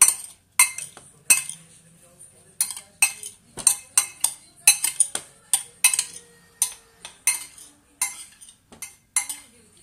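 A salad with chives is tossed in a dish, giving a steady run of sharp utensil clinks and scrapes against the bowl, close and fairly loud, in irregular bursts with brief pauses and no talk.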